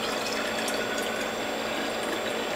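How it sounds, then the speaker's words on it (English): Citrus juice of grapefruit, orange, tangelo, tangerine and lemon with turmeric and ginger is poured into bottles, a steady close liquid stream and gurgle running without pause. "Now I'm going to pour this into bottles."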